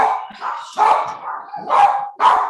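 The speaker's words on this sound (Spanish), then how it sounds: "ay, perdón, tengo muchos perros" Several dogs in a home bark and yip in repeated close, loud bursts, with no talking over them.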